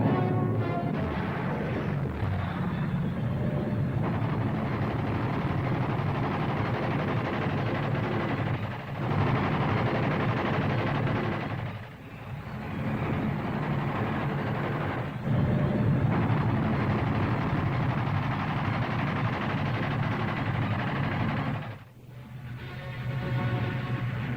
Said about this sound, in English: there is a further scramble as 109s and 190s roar off to attack the enemy aircraft